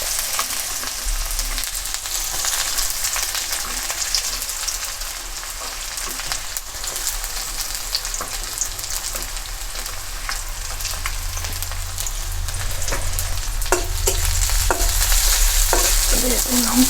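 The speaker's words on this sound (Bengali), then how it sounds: "তো কড়াই তেল গরম হয়ে গেছে, আমি যে শুকনো মরিচটা ভেজে নিয়েছি একটু, আর হচ্ছে গোটা জিরাটা দিয়ে দিলাম।" Dried red chilli, whole cumin, chopped onion and garlic fry in hot oil in a kadai: a continuous dense sizzle with repeated stirring scrapes, growing louder and more crackly toward the end.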